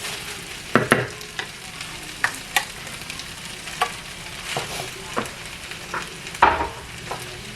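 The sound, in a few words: stirring and mixing rice while cooking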